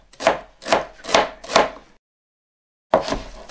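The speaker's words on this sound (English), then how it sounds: "I don't finely chop celery because in this salad we want it to be like a salad, so I just slice them in this fashion." Celery sliced with a knife on a cutting board: four crisp, evenly spaced chops close up, a pause of silence, then more cuts resume.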